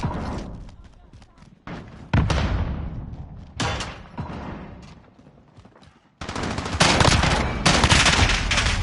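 Bursts of gunfire in Call of Duty: Modern Warfare, loud sharp volleys in several separate clusters, with a player talking over parts of the action.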